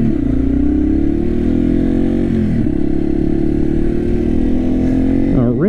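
Yamaha TW200 motorcycle pulling away from a green light on a street, its single-cylinder engine droning steadily and revving up through the gears, close and loud, with a brief drop between shifts.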